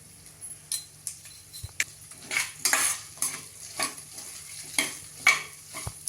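Rice being sautéed in a pan with ginger-garlic paste for onion pulao, a metal spoon scraping and clinking against the pan in a steady rhythm over a soft sizzle.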